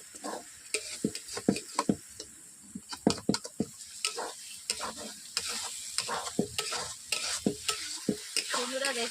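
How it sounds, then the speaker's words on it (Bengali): Chicken with spices stirred and sautéed in a kadai, a close wet sizzle under repeated scraping and clattering strokes of a spoon against the pan in an uneven rhythm. "এই সব উপকরণ দিয়ে আমি কষিয়ে নিচ্ছি"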